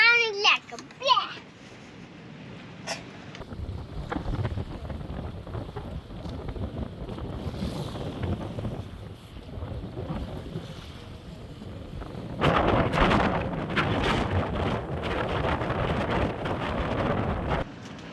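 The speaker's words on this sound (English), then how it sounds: "windy weather in Minerva Reef" Strong wind at Minerva Reef buffets the microphone with rumbling gusts, growing louder toward the end, while children's voices come and go.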